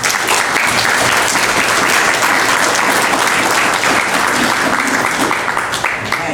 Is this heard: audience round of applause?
yes